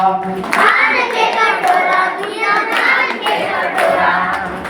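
Children at a school summer camp in Balrampur, Chhattisgarh clap steadily in rhythm, a continuous run of sharp hand claps with children's voices chanting or singing along over them.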